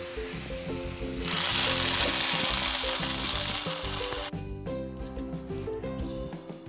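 Hot tempering is poured into Rajasthani pakoda kadhi with a loud, sudden sizzle that crackles steadily for a few seconds, then fades, while background music plays throughout.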